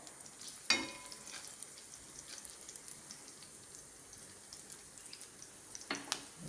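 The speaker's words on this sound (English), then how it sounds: "Now the mustard seed popping, so I'm going to add some" Mustard seeds pop and chana dal fries in hot oil in a pan: a faint, quiet sizzle broken by a couple of sharp pops and clatters near the start and end.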